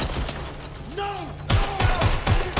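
In Watch Dogs: Legion, a run of loud gunshots hits in quick, punchy bursts after a quieter stretch with a swooping tonal effect, and a voice talks in the background.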